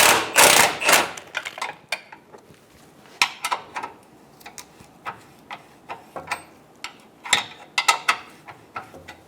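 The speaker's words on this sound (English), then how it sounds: "We're going to just loosen this front bolt." A socket wrench loosens a front control arm bolt on a Buick Enclave, giving a burst of loud noise followed by a series of close, sharp metallic ratchet clicks and taps in uneven rhythm.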